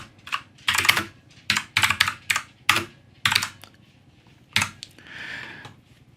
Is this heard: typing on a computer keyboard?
yes